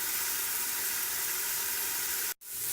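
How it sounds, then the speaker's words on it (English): Onions, garlic and pepper sizzle steadily in a pan for a vegan chickpea and lentil stew, a continuous close frying hiss that briefly cuts out near the end before resuming. "fry this until the onions are pretty much translucent"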